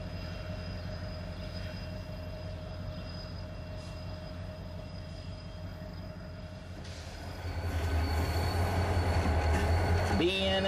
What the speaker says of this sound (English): BNSF 9940 pusher power on the loaded coal train at Fruitland,